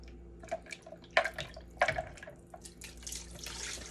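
Water poured into a cooking pot while making birria: irregular splashes and trickles with two stronger gushes near the middle, close and fairly quiet, with no talking.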